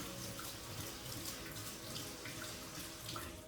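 A steady stream of tap water runs and splashes while food is rinsed in a kitchen sieve, a soft continuous hiss with slight fluctuations and no voices.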